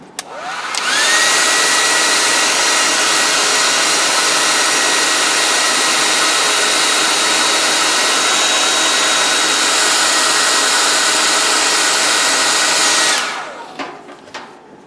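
A hair dryer blows on a wood carving of a Native American bust, switching on with a quick rising whine and then a loud, steady, close whoosh for about twelve seconds before cutting off.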